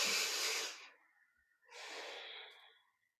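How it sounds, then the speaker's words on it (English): A deep breath during a yoga practice: a long, full, breathy rush of air, a short pause, then a second softer drawn breath, close and quiet with no talking. "One more full inhale. And exhale"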